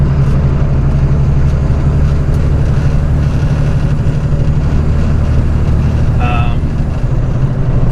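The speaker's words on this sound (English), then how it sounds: "And traffic is all backing up right now." A flatbed straight truck idles in backed-up road traffic, its steady low engine rumble filling the cab continuously, with a brief higher whine near the end.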